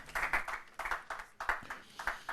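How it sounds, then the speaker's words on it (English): Scattered applause from a small audience at a university law quiz competition, with irregular bursts of claps rising and fading over a couple of seconds. "Round of applause for him."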